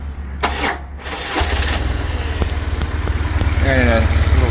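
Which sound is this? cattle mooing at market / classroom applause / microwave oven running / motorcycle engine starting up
motorcycle engine starting up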